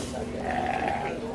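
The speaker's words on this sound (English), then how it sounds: "Look at these lovely sheep." Sheep bleating at an agricultural show in the rain, a wavering harmonic call held for about a second over steady crowd murmur and a voice talking.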